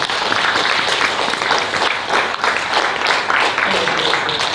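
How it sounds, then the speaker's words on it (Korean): Loud, energetic applause from a gathering of pastors at a church opening worship service, many hands clapping in a dense, sustained roar with a rhythmic pulse running through it. "이럴 때 박수 한번 쳐드리겠습니다."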